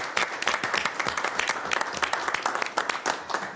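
An audience at a public agency board meeting breaks into applause, dense clapping from many hands in a room, fairly close and continuous for a few seconds.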